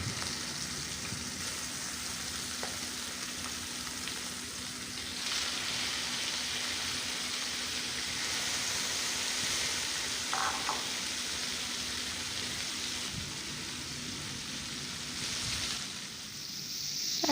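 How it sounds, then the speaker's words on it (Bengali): Prawns fry in hot oil in a pan over a lowered gas flame, giving a steady, close sizzle and crackle throughout with brief louder bursts and no talking. "খুব সুন্দর করে লাল লাল করে মাছগুলোকে ভেজে নেব।"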